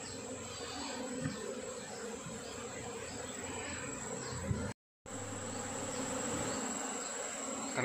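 A dense, steady buzz of a honey bee colony at a hive box fills the air, close and continuous, with individual bees droning past; one brief dropout interrupts it.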